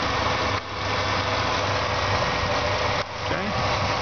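A 2003 Dodge Dakota four-door V8 pickup idles with a steady low rumble close to the microphone. The engine is smooth and even, with two brief dips in level and faint background noise.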